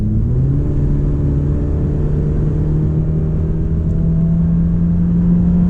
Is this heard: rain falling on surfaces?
no